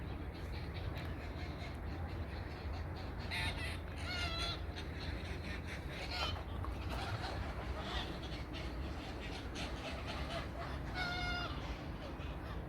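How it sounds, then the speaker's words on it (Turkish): Crows caw now and then from willow trees around a rural spot, distant and faint over a constant broadband background hiss and rumble. "Çünkü bu söğütlerde hep karga var."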